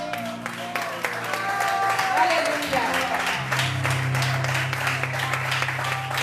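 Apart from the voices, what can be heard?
applause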